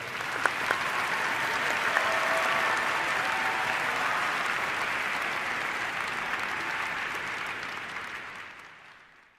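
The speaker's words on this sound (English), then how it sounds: "all together we share an applause for them that far away" Sustained audience applause at the Nansen Award ceremony, a dense steady wash of clapping hands from a large crowd that holds for several seconds before fading out at the end.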